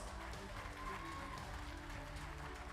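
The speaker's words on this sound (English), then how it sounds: "A big round of applause" Audience applause for the top 20 finalists at a Mrs. Sri Lanka pageant finale, fairly quiet and diffuse, heard alongside low background music and hall noise.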